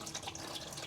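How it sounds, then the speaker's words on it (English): Used transmission fluid pours in a steady stream from under a Mitsubishi Diamante into a bucket, a constant close liquid splatter and trickle with no voices. "A waterfall of nasty transmission fluid."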